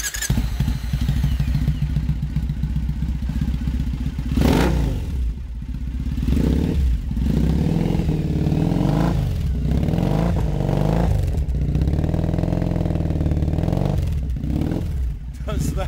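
A Triumph Bonneville bobber drag bike is started up and runs loud and close, with uneven revs, blips and clattering mechanical noise, while people talk over it.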